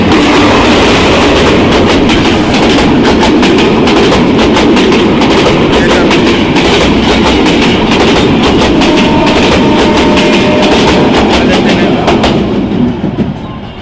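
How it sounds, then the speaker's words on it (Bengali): A direct express train roars past close by at speed, loud and continuous with rapid clattering wheels, fading quickly at the very end. "ইতিমধ্যে চলে গেল আসলে এই ট্রেনটা"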